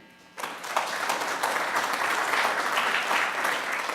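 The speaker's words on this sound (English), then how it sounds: "give yourself a round of applause for being here" Audience applause at a branding talk during a merch conference, a dense steady wash of many hands clapping that starts abruptly after a brief quiet moment and holds loud and even to the end.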